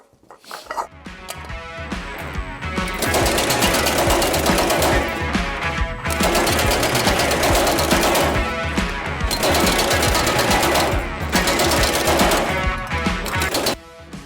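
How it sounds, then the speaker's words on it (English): A power hammer shaping sheet metal for a race fuel cap pounds in rapid, steady machine-gun bursts, loud and close, with short pauses between runs. "Won't be too big of a setback going back in the power hammer."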